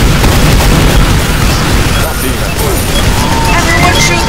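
A sentry buster robot detonates in Team Fortress 2, a loud booming blast amid constant battle noise and crashing debris, with shouting voices mixed in.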